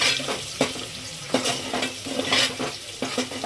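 Curry leaves dropped into hot oil in a pan for a minced-goat curry, giving a steady sizzle broken by several sharp clinks and scrapes of a spoon stirring against the metal, close and fairly loud with no talking.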